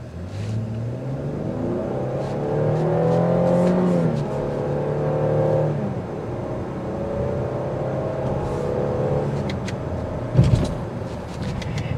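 A 2024 Chevrolet Blazer RS engine revs and accelerates, its tone climbing and falling through rising RPM in smooth sweeps, heard from inside the cabin at moderate loudness with a brief knock near the end.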